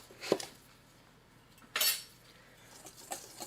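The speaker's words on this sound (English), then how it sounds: "Just whisk until the dry ingredients are all combined" A whisk clinks against a mixing bowl of sifted dry quick-bread ingredients, flour with baking soda and salt, in two short separate metallic bursts over a quiet background.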